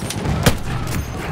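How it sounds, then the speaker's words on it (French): Rapid burst of enemy machine gun fire in the World War I shooter Battlefield 1, Fort de Vaux operation, several sharp cracks across a second amid busy battle noise, no talk. "Là! Mitrailleuse ennemie!"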